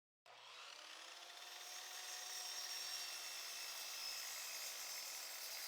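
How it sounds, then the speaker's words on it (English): A miter saw spins up and cuts through a 5 by 7 centimeter eucalyptus wood beam, giving a sustained, rising whine with a steady grinding tone close by, alone without talk. "On the miter saw, I'll align the ends and cut 2 pieces,"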